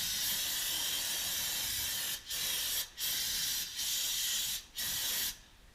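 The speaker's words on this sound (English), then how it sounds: "So I like to spray with the brake clean first and just get most of the dust off." Brake cleaner sprayed onto rear brakes, a loud continuous aerosol hiss broken by four short pauses as the nozzle is released, then cut off at the end.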